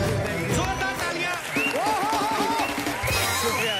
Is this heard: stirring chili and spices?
no